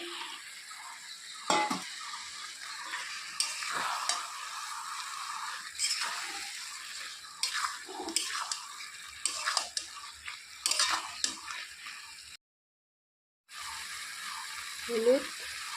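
Chicken pieces for a chicken curry fry in a pan with a soft sizzle while a spoon stirs and scrapes at intervals, fairly quiet throughout and with a short gap of silence near the end.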